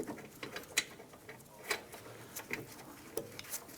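Caliper bracket bolt on a Jeep Grand Cherokee rear brake being threaded in, with faint close ratcheting clicks and small metallic ticks spaced irregularly over a quiet background.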